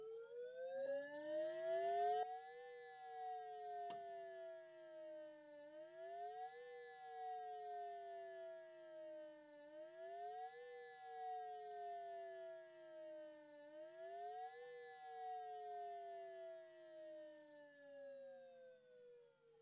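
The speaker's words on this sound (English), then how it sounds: "The next one is the wailing attack tone." A homemade Storm-Seeker weather siren plays the wailing attack tone through a Bluetooth speaker, rising and falling in slow repeated sweeps with a sharp click near the start, steady and fairly faint.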